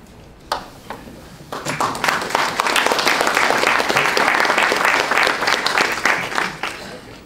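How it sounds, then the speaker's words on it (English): Community forum audience on license plate reading cameras breaks into applause, starting with a few isolated claps and then swelling into sustained, loud clapping from the crowd that tapers slightly near the end. "Please, another round of applause for Chief."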